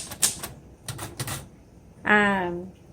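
A 1956 Royal Quiet De Luxe typewriter, green, clacks out a few sharp X keystrokes in quick bursts, followed by a brief voice, all close and fairly quiet.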